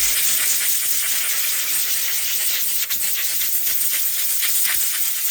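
Compressed air at about 60 psi blasts debris from a K&N air filter after a 50,000-mile interval, a loud continuous close hiss with slight flutters and one brief dip partway through.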